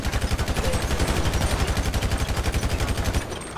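A carbine rifle in GTA5 fires in a long, fast, unbroken automatic burst of sharp, evenly spaced shots, loud and close, then stops abruptly.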